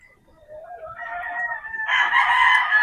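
A lemon sweater gamefowl rooster crows once, a full rising cock-a-doodle-doo that swells in the middle and ends loud and close, with no talk over it.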